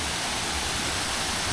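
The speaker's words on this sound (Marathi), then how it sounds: "हा जो आहे तो आहे पानवल धबधबा" The Panwal waterfall rushes in a steady, close, broadband roar with no let-up, its flow light after only a little morning rain.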